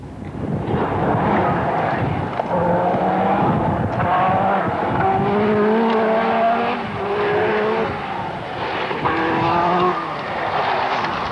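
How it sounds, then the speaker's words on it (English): Group A Audi 80 Quattro rally car at the 1984 RAC Rally, engine revving and changing pitch steadily as it drives a forest stage, loud and continuous with rising and falling harmonics, no talk. "Also moving through the field, Mikael Eriksson in the Group A Audi 80 Quattro"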